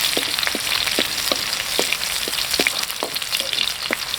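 Garlic and shallots fry in oil at a bamboo-forest outdoor kitchen, giving a steady close sizzle with scattered sharp crackles and pops and no talking.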